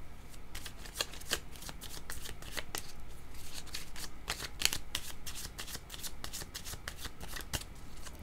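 Tarot cards riffled and shuffled by hand in a steady, rapid run of crisp flutters, close and clear against a quiet room with no talking.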